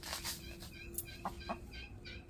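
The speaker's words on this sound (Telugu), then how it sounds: "మేము ఎక్కడుంటే ఈ కోళ్ళు కూడా అక్కడే ఉన్నాయి" Chickens kept near people clearing and cleaning around a coconut tree in a garden, giving short clucks close by, a few brief calls standing out over steady outdoor background.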